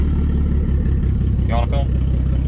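A turbocharged M52 engine in a BMW E36 rumbles at a cold start, steady and loud at close range, with a brief voice over it partway through.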